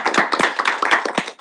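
A small group claps at a Senate open-forum meeting, with sharp individual hand claps close by in an uneven burst over about a second and a half.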